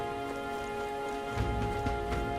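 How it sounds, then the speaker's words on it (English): Rain falls in a fantasy role-playing video game, a steady patter of drops over a constant tonal hum, with a louder rumble of splashing near the end. "This bloody rain."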